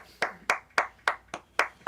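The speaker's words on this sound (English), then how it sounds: "You're all clapping too" Remote concert audience clapping, a single person's hands heard in about seven steady, evenly spaced claps, fairly close and clear with no talk.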